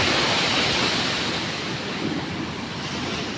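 Big sea waves after stormy weather surge in a continuous, loud, broad roar close by, with no voices.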